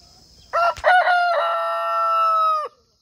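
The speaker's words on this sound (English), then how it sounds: "he can let out the biggest, loudest cock-a-doodle-doo ever" A rooster crows loudly and close up, one long drawn-out cock-a-doodle-doo with a few clucking notes at the start, then silence.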